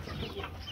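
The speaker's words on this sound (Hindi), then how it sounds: "हमारी फ्रांसी गोल्डन मुर्गी" A golden Misri hen is clucking in a brief, close, continuous burst of soft fowl sounds against dense background noise.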